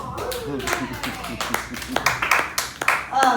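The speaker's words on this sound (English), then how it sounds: "give yourselves a round of applause" Scattered clapping from a comedy club audience comes in uneven bursts, loud and close, while a voice talks over it and sharp individual claps stand out.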